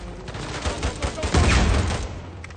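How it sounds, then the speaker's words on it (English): Rapid bursts of gunfire and explosive blasts from a grenade launcher in the video game Uncharted 4, loud and dense, building to a heavier blast midway. "That's one bloody grenade launcher"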